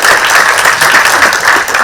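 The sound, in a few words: audience applause, clapping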